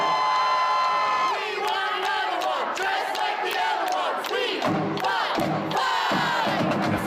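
A record stadium crowd at a Kansas City Current women's soccer match roars and cheers after a goal, with sustained loud shouting and whoops filling the whole stretch and voices mixed through the din.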